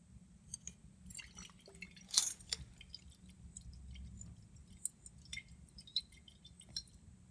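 Potassium permanganate drips from a burette into a peroxide titration flask, giving small, sparse, irregular drip sounds with one louder splash-like burst partway through, heard alone in a quiet lab.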